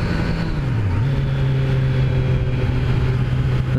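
A 2018 Kawasaki Z900 motorcycle engine drones loud and steady during a ride through a residential area. The pitch dips briefly near the start, then holds an even note under constant wind rush.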